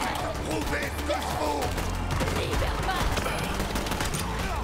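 Rapid gunfire from a shotgun in the Borderlands 3 video game, a dense burst of repeated blasts and impacts over a few seconds, loud, with voices talking over the shooting.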